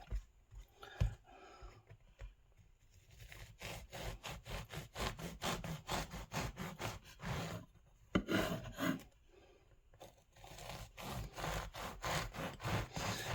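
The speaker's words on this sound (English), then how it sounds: "Cut yourself a piece round about 3/4 of an inch, or a couple of pieces." A knife sawing through a loaf of artisan bread for grilled cheese sandwiches, producing close, crunchy back-and-forth strokes in an uneven rhythm, with a brief lull before the slicing resumes.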